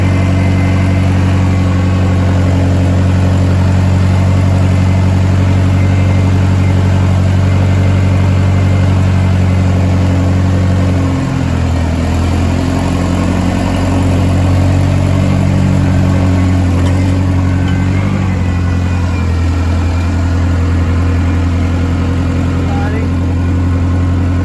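A rebuilt Oliver 550 tractor engine runs loud and close while driven, a constant heavy drone whose pitch shifts briefly partway through, and voices may sound under it.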